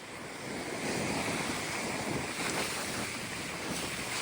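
Sea waves crash and wash against the base of a coastal bank on a fairly calm day as rain begins, with a steady, loud roar of surf and gusting wind buffeting the microphone throughout.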